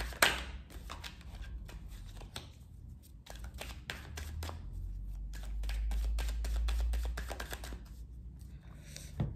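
Oracle cards being shuffled by hand for a cross spread, a quiet run of soft riffling flicks and taps close up, with no talking.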